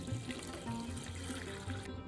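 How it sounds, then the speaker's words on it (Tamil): Water is poured into roasted moong dal for halwa, a soft, steady splashing and trickling stream that stays fairly quiet and close for about two seconds, with no voices. "அரை கப்பு பருப்பு எடுத்ததுனால நான் ஒன்றரை கப்பு தண்ணி சேர்க்குறேன்"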